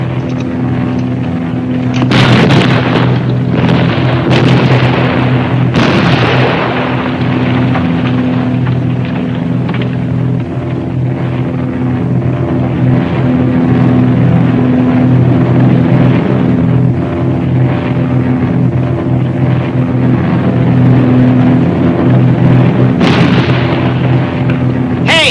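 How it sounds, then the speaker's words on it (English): A wartime air raid in a film scene, with a continuous loud drone of aircraft engines broken by heavy bursts of explosions and gunfire, dense and close throughout. "An air raid! They're after Big Bertha!"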